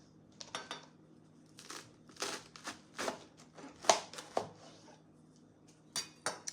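A knife cuts a lettuce head into wedges on a board, giving a run of close, crisp crunching slices and light knocks against the surface, irregular in rhythm and spread across several seconds.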